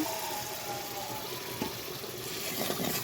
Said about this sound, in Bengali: মশলাটা কষানো শেষ, এবার দিয়ে দিব পানি।